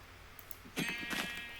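A single short sheep bleat in Minecraft sounds out, fairly faint, against an otherwise quiet background.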